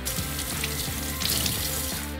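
Peeled potatoes rinsed under running tap water in a sink, a continuous close hiss of flowing water with soft splashing, no voices.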